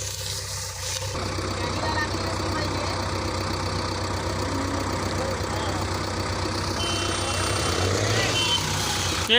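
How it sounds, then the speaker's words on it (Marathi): A JCB backhoe loader engine idles with a steady, continuous mid-pitched rumble at a rural site where a sugarcane trolley is stuck, with tractors nearby; no one speaks over the even drone. "आता आलेली आहे JCB"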